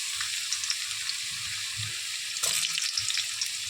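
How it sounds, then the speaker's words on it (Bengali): Potatoes frying in hot oil in a wok make a soft, steady sizzle, with low bubbling pops and a brief brighter crackle partway through, no talking. "আলু ছেড়ে দেবো, দিয়ে আলুগুলো একটু ভাজা ভাজা হয়ে গেলে নামিয়ে নেব।"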